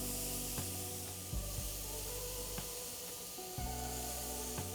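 Salmon kebabs hiss and sizzle as they are laid on a hot grill, a steady, soft frying hiss with a few small knocks and shifts as pieces go down.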